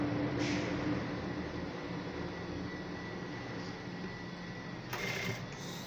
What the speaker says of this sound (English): I'm going to take this point, sew it to this part,